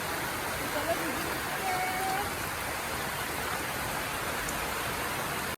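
Steady, dense rain pouring down close by, a constant wash of hiss with no pauses.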